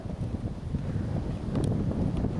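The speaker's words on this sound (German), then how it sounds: "Boah, es ist richtig windig heute." Strong, gusty wind buffets the microphone on an inflatable Intex Excursion boat trip near Wusterhausen/Dosse, a loud, steady rumbling roar with slight swells and no talk.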